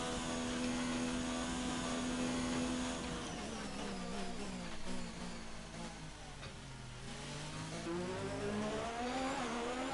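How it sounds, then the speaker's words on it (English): Haas F1 car engine in the F1 2019 video game at the German Grand Prix: a continuous, loud, close, high-pitched whine whose pitch rises and falls through gear changes, with no break. "Car sounds so weird in this view."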